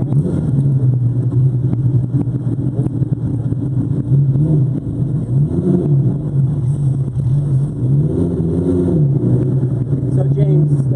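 Straight six dual overhead cam 3.4 liter Jaguar engine running with a continuous deep droning hum, swelling in a few brief revs, heard from inside the car at steady loudness, with voices talking over it.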